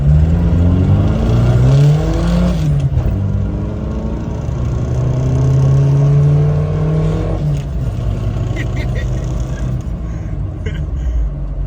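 A Suzuki Samurai with a swapped-in 1.6L 16-valve engine and a 2-inch exhaust pipe revs hard in snowy weather, its loud rising and falling engine note rumbling close by, with voices talking over parts of it.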